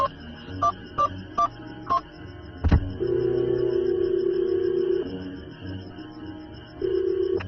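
A short run of electronic mobile phone dial tones, a sharp click, then long steady ringback tones repeating as a call connects.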